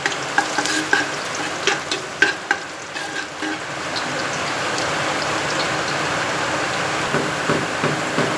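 Garlic frying in oil toward golden brown: a run of sharp spatula clicks and scrapes against the pan over a constant close sizzle that settles into a steady hiss.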